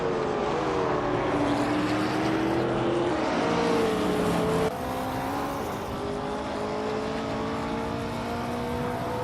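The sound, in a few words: racing cars including a 1970 Dodge Challenger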